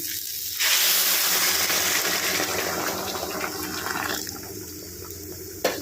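Water gushes and splashes into a pot of lightly fried rice for vegetable biryani with a hissing sizzle, steady for several seconds before tapering off, close by and fairly loud.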